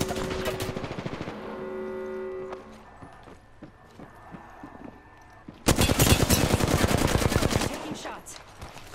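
Rapid automatic gunfire from the video game Apex Legends comes in a short scattered spell, then a dense, loud sustained burst near the end, over game sounds.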